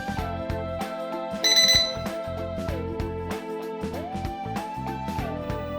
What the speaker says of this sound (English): A few beeps indicate the switching speed.